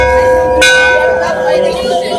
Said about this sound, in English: Hey, you want to ring the bell?